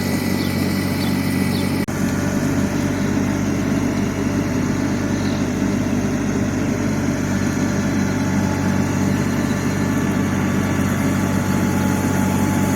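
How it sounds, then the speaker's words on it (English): A tractor pulling a box blade to drag gravel and fill gullies in a driveway, with a steady mid-low engine drone running continuously at close range with no talk. "So Joe has got his tractor and box blade on, and he is going to get this driveway back in shape."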